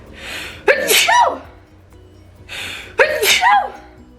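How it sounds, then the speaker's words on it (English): Two loud sneezes, each with a sharp inhaled buildup before the burst, separated by a short pause. "I knew that second sneeze was coming."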